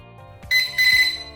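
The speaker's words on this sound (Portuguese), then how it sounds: "Vai bipar nos 3 últimos conforme configurado." An LED smart timer panel gives a bright electronic beep during its countdown, one short high tone that holds briefly and is loud and close.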